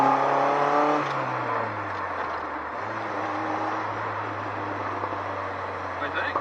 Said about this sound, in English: It's going through all the gears.